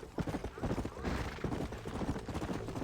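Galloping horse hooves in Red Dead Redemption pound steadily under a busy, dense mix, with some voice-like sound mixed in the background.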